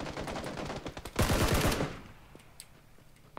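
Rapid gunfire in an online shooter game crackles through the first half in quick bursts, with a dense loud volley in the middle that then fades to scattered faint distant shots.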